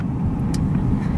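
Road traffic along a busy palm-lined seaside street near a pier, with a steady near rumble of passing cars and a brief higher whoosh partway through.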